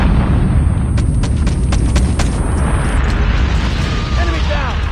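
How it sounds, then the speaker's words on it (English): A nuke detonates in Call of Duty Mobile, a heavy rumbling blast roar sustained across the scene with crackling bursts early on and game voice lines and effects over it. "Friendly nuke has been launched."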